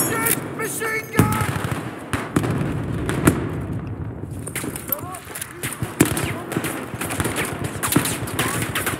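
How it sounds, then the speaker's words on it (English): Dense bursts of automatic machine-gun fire mixed with explosions rattle through a Battlefield V match on the Underground map in Breakthrough mode, with voices calling out over the shooting. "Watch it, machine gun."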